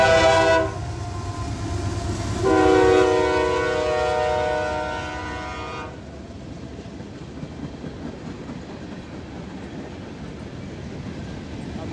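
A CSX heritage-unit locomotive passes with a train, its horn sounding loudly in two long harmonic blasts before the steady rumble and clatter of rolling cars carries on.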